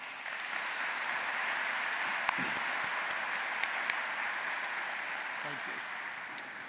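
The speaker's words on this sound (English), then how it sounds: "Please join me in a round of applause" Steady applause from a university commencement crowd rolls on as a broad, even wash of distant clapping, with a few sharper nearby claps and a short spoken thanks partway through.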